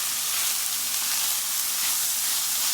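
Red onions frying in hot oil, destined for a fish pie, give a steady, close, dense sizzle that crackles evenly throughout with no voices.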